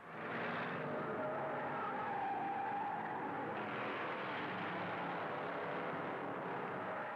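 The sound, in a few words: 1962 Daytona 500 race cars roaring on the track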